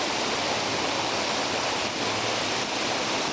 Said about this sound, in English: That is the waterfall though.